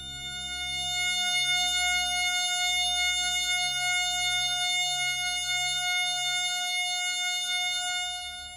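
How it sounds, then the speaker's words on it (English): A synthesized F sharp major chord rings as a steady sustained electronic tone, loud and alone, with a faint low pulsing hum underneath. "another F sharp major chord that sounds like this"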